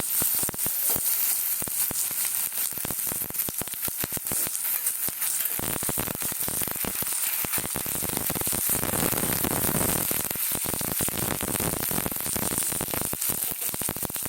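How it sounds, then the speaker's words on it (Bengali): Banana flower and shrimp sizzle steadily in hot oil in a pan, a dense, continuous crackling hiss filling the whole stretch with no speech. "ভাজা হচ্ছে, সঙ্গে বেগুনও দিয়ে দেবো"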